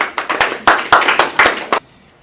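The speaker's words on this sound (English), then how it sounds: "Let's give the guests an applause for being here." A small group of guests gets a brief round of applause, about eight distinct bursts of close clapping that stop abruptly into near silence.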